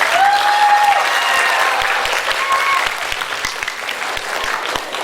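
A crowd at a school graduation and farewell ceremony held in a hotel claps loudly and steadily, a dense close applause with a few voices calling out over it.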